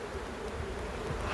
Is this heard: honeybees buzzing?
yes